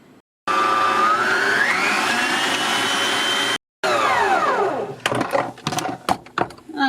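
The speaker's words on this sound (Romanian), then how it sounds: "acum mergem să mixăm aceste ingrediente" Electric mixer whipping six eggs with 400 ml of condensed milk, a loud steady motor whine rising in pitch, briefly cut off, then resuming and winding down into clattering knocks of the beaters against the bowl.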